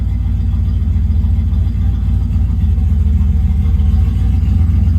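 An engine on standalone EFI idles steadily around 800 to 900 RPM, a loud, even low rumble that holds constant throughout with no speech.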